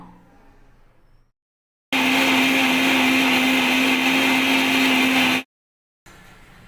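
A kitchen mixer grinder whirs loudly and steadily for about three and a half seconds, grinding mint and green chillies for pudina rice, with quiet pauses before and after.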